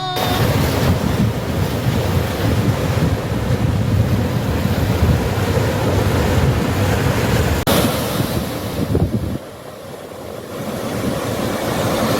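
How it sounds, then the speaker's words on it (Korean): Ocean waves wash in on a windy Korean east-coast beach near Gyeongpo with a constant roar, buffeted by wind noise, then briefly quieten near the end before building again. "오늘은 바람이 어느 정도 있어서 파도 소리가 시원하게 들립니다."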